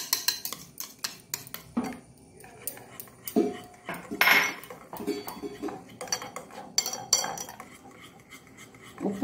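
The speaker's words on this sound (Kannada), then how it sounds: "ಈ ಒಂದು ಗ್ರೈಂಡ್ ಮಾಡಿದಂತಹ ಉಳಿದ ಅನ್ನವನ್ನು ಮಿಕ್ಸ್ ಮಾಡಿಕೊಳ್ಳೋಣ" Leftover cooked rice, ground into a batter for mini dosa, mixed in a bowl with clinks and scrapes of a utensil against dishes, irregular knocks and stirring close by, with no talk.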